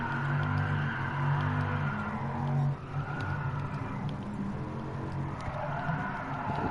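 A car drifting in Gran Turismo Sport, driven with a steering wheel: a steady, loud engine drone with tire skid noise running throughout, briefly dipping midway before continuing.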